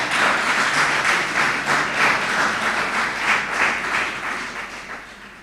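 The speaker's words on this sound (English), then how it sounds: "Give that lady a rousing round of applause for me." An audience at a town hall meeting applauds, a dense steady wash of many hands clapping that fades slightly toward the end.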